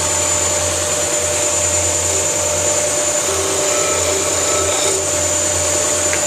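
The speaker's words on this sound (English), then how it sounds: "we burned our wood a little bit, so we're gonna have to sand that off" A power sander works over scorched wood on a hot rod school bus project, a steady, loud, continuous whine with a low hum underneath, running unbroken throughout without any talk.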